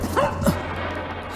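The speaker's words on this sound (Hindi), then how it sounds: "ये पिल्ला कुछ बता रहा है।" Puppy giving a couple of short, high yips close by over a low, steady background hum.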